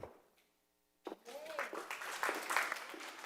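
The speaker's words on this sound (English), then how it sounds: "Please hold your applause." Audience applause at a Bay City, Michigan city meeting, scattered clapping breaking out after a short silence and swelling, with speech heard over it.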